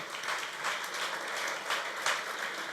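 A church congregation applauds at a Spanish-language service, steady clapping with small swells lasting a few seconds, fairly close and moderately loud with no voice over it.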